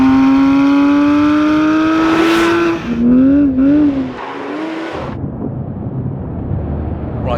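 Porsche 997-series GT3 RS engine revving hard and close, its rising tone climbing through a gear before a quick drop and short blips, then easing off into a lower, rougher drone.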